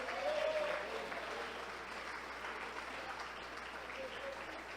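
A church congregation at a Quadrangular evening service applauds the Lord with a continuous, even wash of clapping that sounds fairly distant and soft and holds steady throughout.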